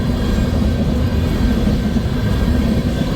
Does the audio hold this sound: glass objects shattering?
no